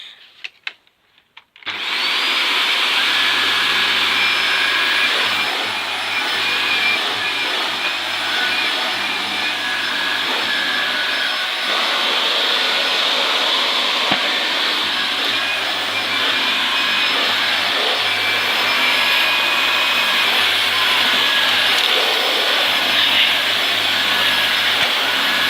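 A Vax Air Reach vacuum cleaner runs steadily on carpet, a loud continuous motor whine with brush roll noise that starts abruptly after a brief pause and holds nearly constant throughout, with no talking.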